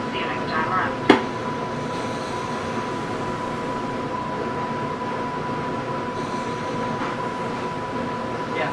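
New Mexico Rail Runner commuter train rolling along with a steady interior rumble and a faint tonal hum, a sharp clank near the start, while an announcement voice speaks over it.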